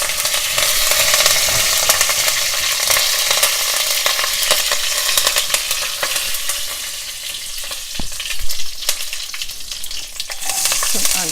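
Curry leaves crackle and spit in hot oil for a sambar lentil soup, a loud close sizzle with bursts of popping and stirring clatter throughout.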